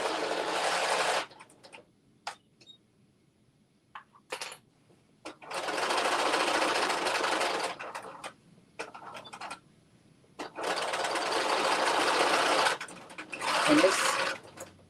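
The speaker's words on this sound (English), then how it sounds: "All right, so we're sewing up the sides." A home sewing machine stitches the side seams of a Butterick 6989 garment in several fast whirring bursts of a few seconds each, separated by pauses with small clicks and handling noises.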